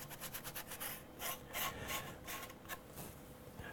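Hand sanding of a 3D-printed part with sandpaper gives a quiet, close scratchy rubbing in quick back-and-forth strokes, steady rhythmic rasps that continue throughout.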